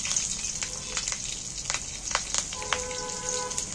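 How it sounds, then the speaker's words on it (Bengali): Slit green chillies and black cumin frying in oil, a soft continuous sizzle with scattered sharp crackles and spits, fairly faint and close. "4টে কাঁচা লঙ্কা চিড়ে তেলের মধ্যে দিয়ে দিই।"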